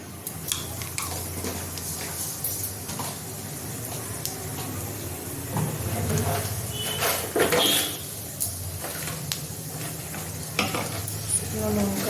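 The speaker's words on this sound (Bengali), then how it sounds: "ফোড়নে দিয়ে দিচ্ছি পাঁচ ফোড়ন" Panch phoron, a Bengali five-spice mix, sizzles and crackles steadily in hot oil while it is stirred, with scraping stir sounds and louder spits coming and going, as it is tempered for a kochu data (taro stem) dish.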